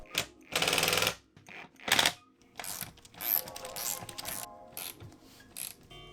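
Ratchet wrench tightening the seat bolts while installing bucket seats in an SC300: several close, loud bursts of rapid mechanical clicking separated by short pauses and softer handling clatter.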